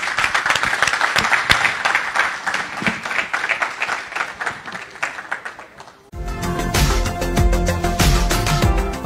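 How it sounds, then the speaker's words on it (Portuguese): Applause for a presenter at a business café event, a dense spread of clapping for about six seconds before giving way abruptly to loud music. "Pedir uma salva de palmas aqui para o nosso palestrante."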